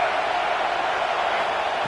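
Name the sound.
stadium crowd noise in NCAA 26 video game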